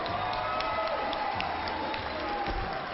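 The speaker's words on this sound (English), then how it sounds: "Ladies and gentlemen, how about a nice round of applause for both fighters" An arena crowd at a mixed martial arts event applauds and cheers for both fighters, a dense, continuous wash of clapping and crowd noise with a muffled announcer-style voice underneath.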